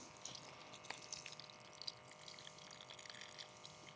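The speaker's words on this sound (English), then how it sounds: "We'll run a little bit of water through this filter first." Water trickling through an ITEHIL E01 portable water filter, a faint, steady light stream with small drips, heard alone and quietly.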